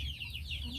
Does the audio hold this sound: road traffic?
no